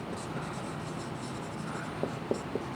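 Chalk or marker writing equations on a board during an engineering lecture, a few short faint taps and strokes over quiet room tone, no one speaking.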